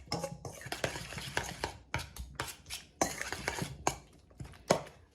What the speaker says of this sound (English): And I'm going to just stir that up.